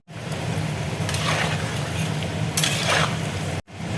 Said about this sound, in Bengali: আলুটা দেখো ভাজা হয়ে গেছে